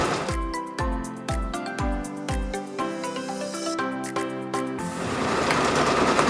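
Sewing machine stitching Sherpa fabric in a busy workshop, with rapid rhythmic mechanical thumping and a whirring motor up close, ending in a broader noisy rush.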